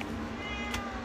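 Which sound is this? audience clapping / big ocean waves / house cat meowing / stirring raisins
house cat meowing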